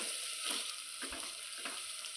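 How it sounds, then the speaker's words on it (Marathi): Two chopped onions fry in ghee with a soft, steady sizzle and occasional stirring swishes, heard close but fairly quiet with no voices. "कांदा आता चांगला फ्राय होऊ द्यायचा आहे,"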